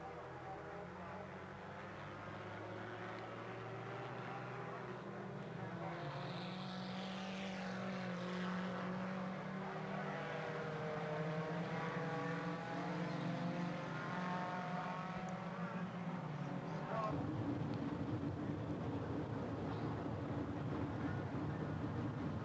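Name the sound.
4-cylinder street stock race cars on oval track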